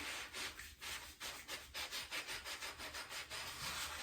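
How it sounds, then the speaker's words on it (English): Steady back-and-forth scrubbing of an old dug bottle being cleaned by hand, a rhythmic rasping rub repeating about twice per second, close and loud with no talking. "I'm just trying to do a good scrub down."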